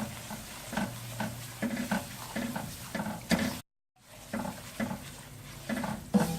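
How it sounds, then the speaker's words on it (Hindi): Semolina roasting in a pan for carrot suji halwa, stirred steadily with repeated scraping strokes over a soft dry sizzle, close and moderately loud, with a brief silent gap midway. "सूजी बहुत जल्दी भुन जाती है, चलाते रहिएगा"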